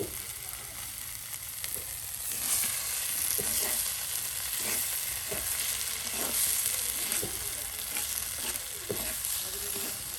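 Eggs frying in a pan for a village-style egg bhuna, with a continuous bright sizzle, occasional stirring scrapes and clicks, and steady close frying noise throughout.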